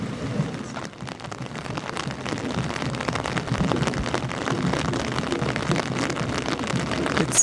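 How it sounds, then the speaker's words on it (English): Heavy, steady rain pours over a forest meadow at a summer gathering in New Mexico, a loud, dense hiss of drops drumming continuously with no voices. "It's been raining pretty steadily, heavily, for at least a half an hour."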